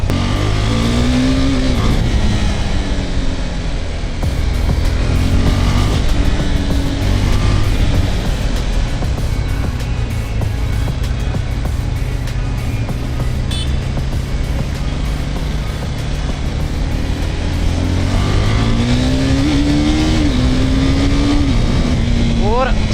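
A KTM RC390 motorcycle engine droning loudly from the rider's position on a night ride, holding a steady high hum with gear changes and rising revs as the bike is pushed hard, continuous throughout.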